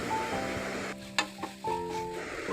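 Onions and capsicum frying in a pan as they are stirred, a soft steady sizzle with a few sharp scrapes and knocks of the spoon, over quiet background music.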